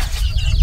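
Chickens cluck in a Kenyan village during early-morning feeding, short loud clucks over a steady, noisy outdoor background.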